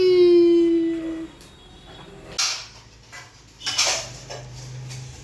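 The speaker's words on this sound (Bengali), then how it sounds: "কতগুলো প্লেট নিয়ে শুরু করছে খেলা।" A child playing with a stack of plates at home at lunchtime, giving a few sharp clattering knocks of crockery after a long vocal wail, with quiet pauses between the clinks.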